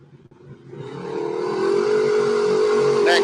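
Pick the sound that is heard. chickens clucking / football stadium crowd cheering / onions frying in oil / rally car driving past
rally car driving past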